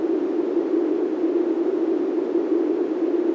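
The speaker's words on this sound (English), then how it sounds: "we have this like panning white noise" Steady hiss of filtered, panning synth white noise, continuous and even, with a band of energy in the low mids and no voices.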